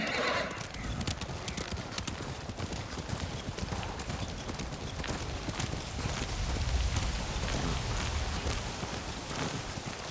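Steady clip-clop of horse hooves in Ghost of Tsushima, riding through heavy snow, with dense rapid hoofbeats under constant wind and weather noise and a brief whinny at the start.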